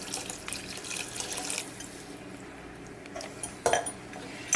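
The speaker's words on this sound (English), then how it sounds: "we're going to pour it in here" Taco seasoning water pours from a cup into a pot of cooked meat, a soft liquid splash followed by quiet sizzling and a few clinks of utensils against the pot.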